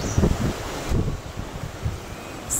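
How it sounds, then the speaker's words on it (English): Gusty wind blowing through woodland, a steady rushing roar with buffeting bursts against the microphone and no voices. "See, quite windy."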